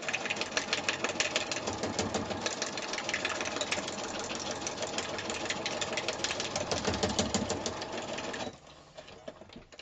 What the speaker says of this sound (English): let me just sew this quick